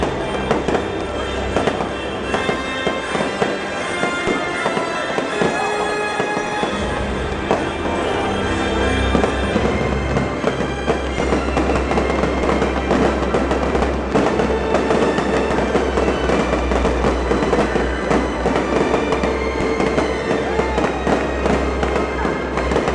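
A big fireworks show booms and crackles continuously, with dense overlapping bursts and rumbling low thuds filling the whole stretch, loud and sustained.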